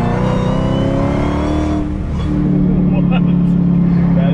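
A 1000-horsepower widebody Dodge Hellcat, lowered on wide tires, roars under full-throttle acceleration, a loud sustained engine note with rising harmonics that dips briefly before settling into a steady drone, with people talking over it.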